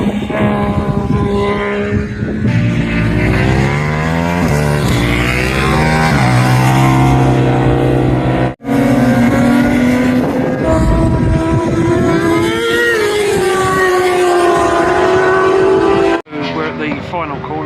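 WorldSBK superbikes race through the final corner at Phillip Island, their engines screaming loud and close with rising and falling pitch as they pass one after another, each sweep overlapping the next.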